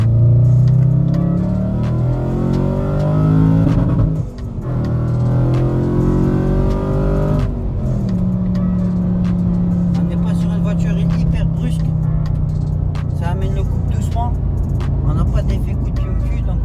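An Audi RS4 drives with a steady, loud engine drone that shifts pitch as it changes gears, heard from inside the car while someone talks throughout.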